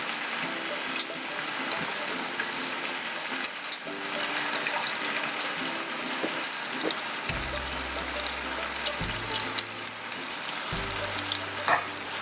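Finely chopped spinach frying in a pan for a Multani recipe, a steady close sizzle with stirring clatter throughout and a few low hums and knocks near the end.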